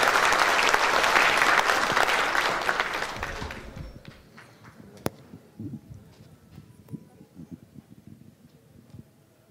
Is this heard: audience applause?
yes